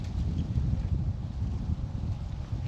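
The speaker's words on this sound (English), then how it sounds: "Yeah, you can see it's windy and that's blowing around pretty good" Wind gusting outdoors at a building site beside an A-frame cabin, a steady low rumbling buffet against the microphone with no pauses, continuous and fairly loud throughout.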